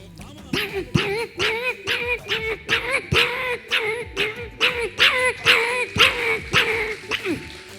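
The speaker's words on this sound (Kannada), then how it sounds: "ಒಂಜಿ ನಾಯಿ ಬುಲಿಪು" Dog barking in a steady run of about a dozen sharp, loud barks spaced roughly half a second apart, close by, in a Tulu comedy show.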